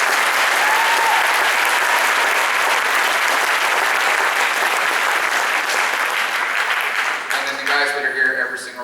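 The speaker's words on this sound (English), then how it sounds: "One more round of applause." Sustained, loud applause fills a school band's board appreciation event, a dense crowd clapping steadily before tapering off near the end, where a voice begins speaking.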